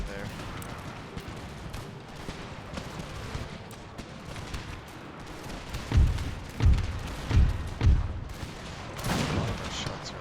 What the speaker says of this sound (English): A lot of our shots are ineffective because of the terrain.